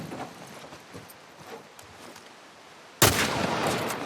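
A single sharp, loud gunshot in The Last of Us game lands abruptly after a few seconds of faint rustling and footsteps, its rough, noisy tail carrying to the end.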